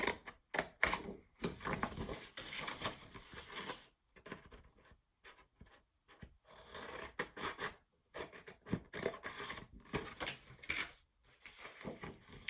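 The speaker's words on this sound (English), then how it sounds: "I'm going to start with my bottom left corner and cut that box out" Scissors cutting the corners out of a sheet of paper for a mini flipbook album, close and quiet, with irregular bursts of snipping and rasping separated by short pauses.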